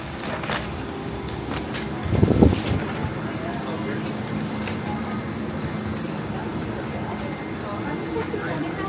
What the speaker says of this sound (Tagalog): nakasakay na kami ng eroplano